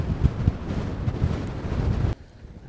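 Breezy wind rumbling across a microphone on a coastal beach walk by an estuary, loud irregular low gusts for about two seconds, then a quieter stretch of softer wind noise.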